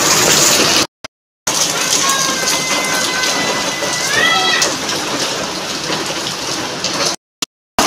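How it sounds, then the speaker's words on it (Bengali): Steady, loud rain pours outside a home in India as a constant dense hiss, with a few brief gaps in the sound and a cat's faint meows rising over it midway. "তোমরা তো বুঝতে পারছো না বাইরে বৃষ্টি হচ্ছে, বাট তোমরা নিশ্চয়ই আওয়াজ পাচ্ছ"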